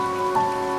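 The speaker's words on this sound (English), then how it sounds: "It's raining and it's pretty much beautiful." Rain falls outdoors in a steady, close patter on surfaces, with faint tonal hum in the background and no talking.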